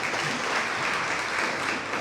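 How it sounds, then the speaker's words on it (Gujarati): Applause from the audience at a Gujarati poetry festival, a steady, even patter of many hands clapping for the whole short stretch, moderately loud with no voices over it. "એ લોકોને ફરી એકવાર તાળીથી વધાવી"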